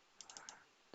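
Typing on a computer keyboard produces a few quick, faint key clicks in a short burst, followed by one slightly louder tap, close by and without speech.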